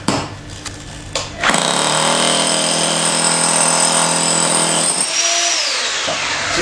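An electric breaker fitted with a flat chisel cuts into concrete with a loud, continuous, rapid hammering roar lasting several seconds. A few handling knocks come before it, and the roar tails off at the end.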